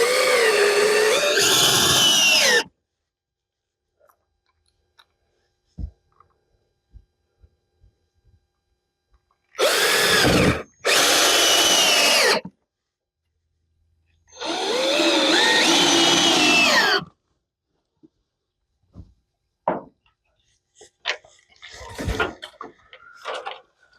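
A power drill securing parts of an off-grid rainwater catchment system on a homestead runs in several separate loud bursts of a few seconds each, with quiet gaps and faint clicks and knocks between them.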